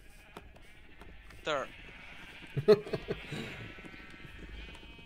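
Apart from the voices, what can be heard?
sheep bleating in the video game Minecraft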